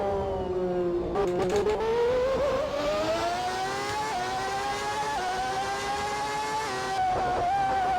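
Simulated McLaren Formula One engine from a 1989-season race in GP4 drones steadily at high revs, its pitch climbing gradually with brief gear-change dips, loud and continuous with no talk.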